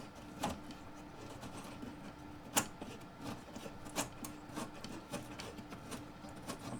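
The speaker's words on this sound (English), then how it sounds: "So I'll remove the back first. In fact, I'll remove all 4 screws." Back screws come out of an AWA 573MA device, heard as faint, sparse scrapes and small clicks of a screwdriver turning against the casing in a quiet room.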